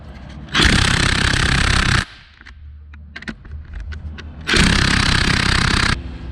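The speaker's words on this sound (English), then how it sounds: "They don't want to loosen off with the rattle gun, so it's out with the breaker bar." A pneumatic rattle gun hammers loudly in two sustained bursts on a stubborn gearbox bolt during a ZD30 to TD42 engine swap, with a pause of clanking metal and tool handling between them.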